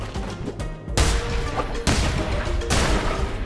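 Explosions in the video game Cult of the Lamb, several loud broadband bursts about a second apart over a dense, busy game soundscape.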